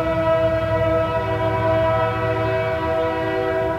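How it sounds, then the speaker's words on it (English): A train horn blares loud and sustained with steady harmonic tones over the low rumble of the passing rail cars, holding throughout with no talk. "what's with the frickin' train?"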